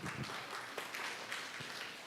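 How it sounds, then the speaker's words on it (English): A closing ceremony audience applauds, a steady wash of many hands clapping at fairly even loudness for the whole stretch, with no clear talk over it. "give ourselves a round of applause because you all did that"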